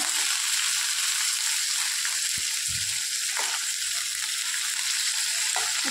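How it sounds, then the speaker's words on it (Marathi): Chopped capsicum (shimla mirch) sautés in a hot pan, giving off a steady, close hiss of sizzling oil, with a few soft stirring knocks underneath. "अशा पद्धतीने परतून घेतल्यामुळे ते लवकर सॉफ्टही होतात आणि छान चव येते"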